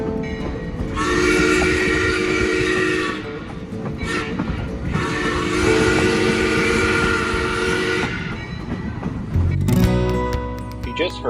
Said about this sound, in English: You just heard locomotive number 3's handmade boiler tube whistle, a distinctive sound that echoes through the foothills.